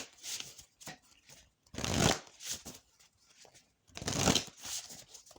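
Tarot cards being shuffled close by, two louder riffling bursts amid softer sliding and tapping of the deck, with no talking.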